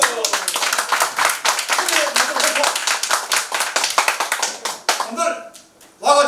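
Audience clapping at a Korean gathering about 5.18, many hands clapping in a brisk, uneven patter with talk mixed underneath, tapering off near the end before a voice resumes.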